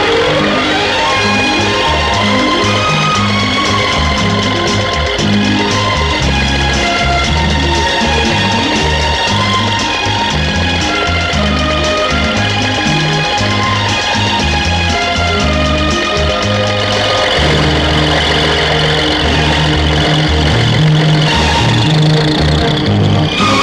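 A tractor engine revs hard and continuously while ploughing a field, loud and close, with a steady throbbing rhythm that keeps straining throughout.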